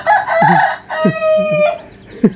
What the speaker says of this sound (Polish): dziobnie parę ziarenek i e, robi kukuryku